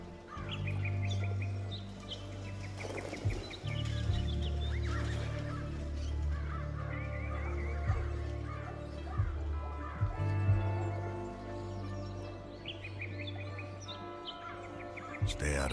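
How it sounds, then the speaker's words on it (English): Busy city ambience in Liberte, a French Revolution-era game: horses whinny and snort amid chirping birds and scattered calling voices, a steady low bustle running throughout. "I like the background noise too. It definitely makes you feel like you're in a city with horses and people and shopkeepers and everything calling"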